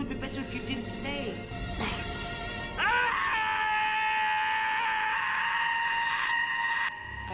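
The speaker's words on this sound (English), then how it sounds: "The scream lasts 20 hours every day." A man screams in an episode of Torchwood, a loud, sustained wail that swells after a few seconds of muffled, shifting vocal sounds and holds steady and close until the clip ends.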